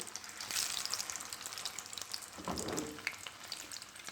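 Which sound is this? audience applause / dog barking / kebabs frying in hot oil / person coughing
kebabs frying in hot oil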